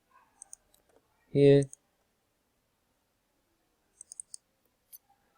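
Sharp computer mouse clicks, a few scattered single taps and then a quick cluster of three or four, close and quiet in an otherwise silent room, with one short spoken word in between.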